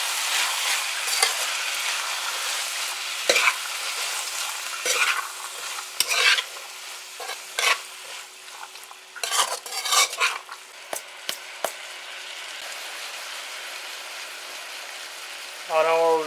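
Long beans being stirred in a pot of Guyanese bora curry with chicken, a soft sizzle under repeated scraping and clanking of a spoon against the pot, close by, with a voice briefly heard near the end.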